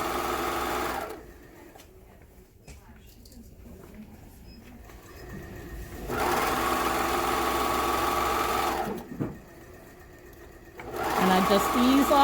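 A sewing machine stitches an enclosed pillowcase seam in loud, steady runs that stop and restart, separated by quieter stretches where someone talks.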